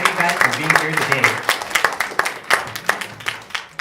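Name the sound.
audience applause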